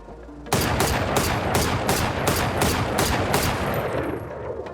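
Valorant gunfire while shift walking: a sudden burst of evenly spaced automatic shots, about nine sharp cracks in quick rhythm, loud and close, with no speech over it.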